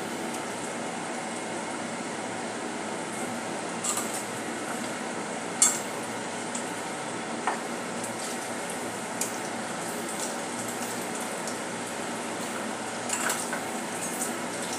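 Potato balls fry in oil over low to medium flame with a steady, soft sizzle, while a spoon lightly clinks against the pan as they are turned over.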